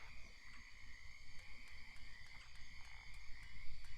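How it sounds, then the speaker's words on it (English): A chorus of frogs croaks continuously in the Southern outdoors, layered trilling calls with faint insect-like ticks over a low background rumble, no speech. "Like hearing the frogs and everything."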